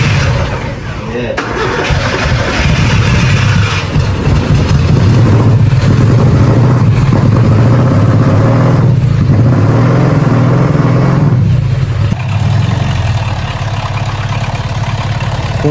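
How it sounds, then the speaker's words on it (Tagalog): A loud, tuned 4K car engine runs steadily and rough, droning throughout with slight shifts in pitch, close by. "Kung maririnig nyo nga guys, maingay yung ating makina."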